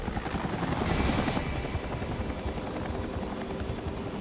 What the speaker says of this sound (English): As helicopters come and go, Brandy pitches in, bringing food to the pilots.